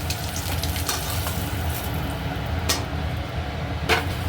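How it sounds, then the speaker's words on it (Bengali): Bay leaf and whole cumin seeds temper in hot oil, giving a steady, close sizzle and crackle with a few brighter pops and spatters rising out of it. "এবার এর মধ্যেই তেলেই আমি তেজপাতা গোটা জিরে ফোড়ন দিলাম"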